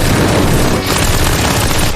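Dense machine gun barrage in the One Punch Man anime, a loud, continuous roar of rapid gunfire with explosive booms layered over it, sustained at full intensity throughout with no pauses.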